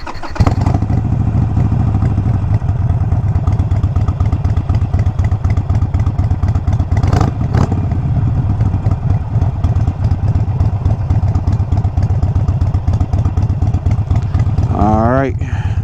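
Harley Sportster fitted with Vance & Hines Mini Grenades exhaust starting up and settling into a loud, deep, lumpy idle, heard close and steady throughout, with a brief rising rev near the end.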